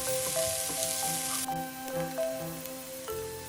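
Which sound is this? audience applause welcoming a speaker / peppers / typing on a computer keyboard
peppers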